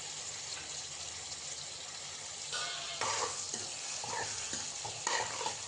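Tomatoes and three cloves of garlic sizzle in a pan while a utensil stirs and scrapes through them, a steady close frying hiss broken by brisk clatters of stirring, with no talking.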